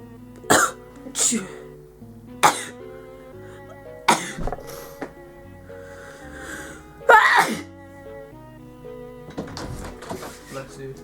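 Several sharp sneezes burst out one after another, close and loud, with breathy gasps between them over a soft background.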